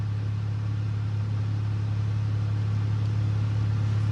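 Small yellow car driving during a chase, a steady low engine hum and road rumble that stays constant and fairly loud throughout, with no talk.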